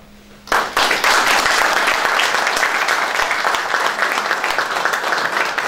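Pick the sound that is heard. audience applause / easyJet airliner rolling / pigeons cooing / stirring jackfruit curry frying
audience applause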